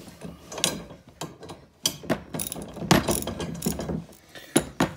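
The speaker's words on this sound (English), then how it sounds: "So I got a ratchet strap and a wrench. So I'm just gonna put a wrench to it." A ratchet wrench tightens 10 mm nuts on bolts while a tow hitch is fitted to a Pelican Snow Trek 75 sled, giving a close, steady run of rapid ratcheting clicks in short bursts with no talking.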